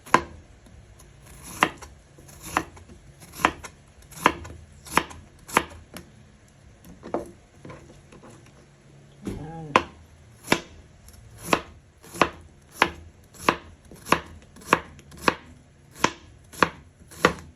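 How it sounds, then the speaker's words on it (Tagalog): A knife slicing an ingredient thinly on a cutting board, producing crisp, regular chopping taps at roughly one per second, close and clear with a short pause midway. "Hiwain natin siya ng manipis."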